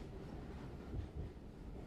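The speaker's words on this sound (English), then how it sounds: "the comforting hum of the train" A moving train gives a low, steady ambient rumble and hum, quiet and continuous with a few soft thumps, as heard from inside a carriage.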